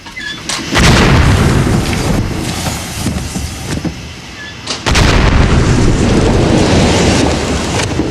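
A pressurised steam tank bursting near 7.5 bar: a sudden violent blast followed by a sustained roaring rush, then a second loud burst with continued heavy roaring debris noise.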